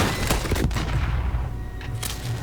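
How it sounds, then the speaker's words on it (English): Video game gunfire from a semi-auto machine gun or shotgun comes as loud rapid bursts of shots in a dense, continuous volley, close and dominating, with no clear talk. "Yeah, the semi-auto machine gun, or shotgun."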